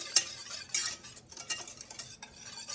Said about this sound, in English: Let's whisk this flour, sugar, and salt together